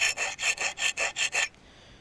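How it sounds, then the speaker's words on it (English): A hatchet blade is drawn across a sharpening stone in seven quick, even rasping strokes, close and clear, followed by a quiet pause. "sliding it across the stone"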